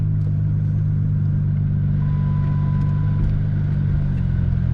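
A truck pulls away and drives on, its engine a loud, close, continuous low rumble with steady road noise and no pauses.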